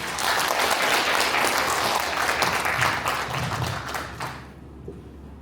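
Applause for a great Buddhist monk at the founding ceremony of a Taego Buddhist culture society, a crowd clapping densely and close before tapering off and fading out near the end.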